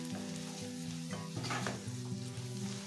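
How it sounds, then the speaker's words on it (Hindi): A pan of green pea and potato ghugni is stirred after fresh coriander goes in, giving a soft, steady sizzle and scraping at low level under a faint tonal hum, with no speech. "इस टाइम हमने इसमें हरी धनिया ढेर सारी डाल देनी है और इसको हमने अच्छे से इसमें मिक्स कर लेना है।"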